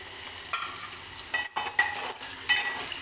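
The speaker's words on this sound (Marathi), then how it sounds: "बटाटा व्यवस्थित आपल्याला तेलामध्ये भाजून घ्यायचा आहे आमटीसाठी" Potato pieces fry in oil for a peanut amti, sizzling softly while a spoon stirs and scrapes the pan in a few distinct strokes, each bringing a brief burst of crackle.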